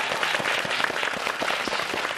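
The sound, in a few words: studio audience applause welcoming guest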